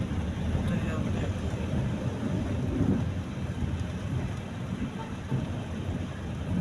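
Steady, dense rain pours throughout, with a low rolling rumble of thunder swelling in the middle and a constant wash of noise that never breaks.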